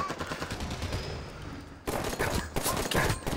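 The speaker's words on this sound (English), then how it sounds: "Where am I getting shot from?" Bursts of gunfire in The Division on Xbox One, dense overlapping shots crackling loud and close. A brief lull falls midway, then heavy rapid fire resumes.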